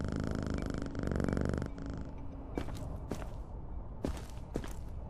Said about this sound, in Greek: Η γάτα από πριν.